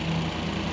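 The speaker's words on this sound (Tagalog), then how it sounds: "ay nagpaandar lang nimo kurog ang makina" Rough-running engine of a Suzuki DA64V van, shaking as it idles with low power, makes a steady close drone with a faint low hum throughout, alone with no talk.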